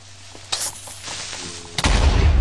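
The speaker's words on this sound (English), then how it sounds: "See, explosion." A Minecraft creeper detonates in the video game, a sharp booming blast that breaks a quiet scene and is followed by a loud rumbling roar of debris to the end.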